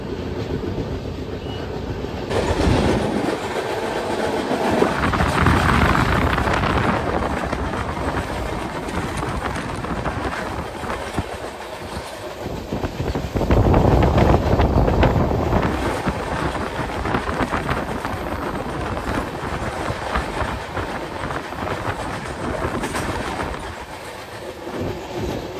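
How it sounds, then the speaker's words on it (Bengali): The Shantiniketan Express, train 12337, speeds around a curve, its carriages rumbling and clattering steadily over the rails with heavy wind buffeting, swelling loudest twice along the long run. "কার্ভে এসে ট্রেনের গতি একটু বাড়িয়ে দিয়েছে"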